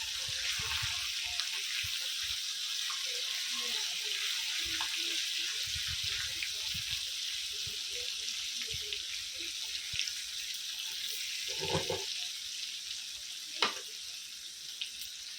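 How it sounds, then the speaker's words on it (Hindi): Fish frying in a pan for a Goan fish curry gives a steady, close sizzling hiss that runs unbroken throughout, with a brief clatter and a sharp knock near the end. "मच्छी फ्राई हो गई"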